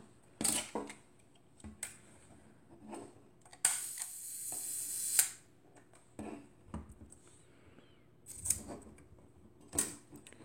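A Zeiss Ikon Ikonta A 521 folding camera with a Tessar 75mm f3.5 lens handled up close: the body opens, the film winds with a ratcheting burr, and the shutter cocks and releases in small crisp clicks, no talk.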